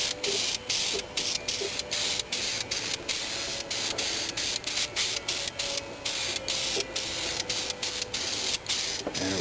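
VHT flameproof paint hisses from a spray can onto vehicle headers in a rapid series of short light bursts, close and fairly steady.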